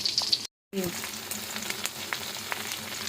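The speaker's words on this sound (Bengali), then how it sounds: "কাবাবের কড়াইতে ডিম ভেজে ফেলতেছি" Eggs frying in a pan still greasy from kebabs, a steady close sizzle with light scraping, broken by a brief moment of silence early on.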